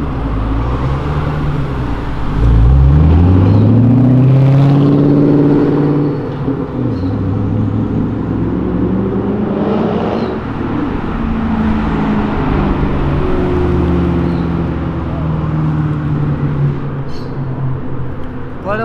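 A Jeep Renegade drives past close by at a car-spotting spot in Brazil, its engine rising in pitch as it accelerates, then a steady loud road rumble with another engine sweeping through later.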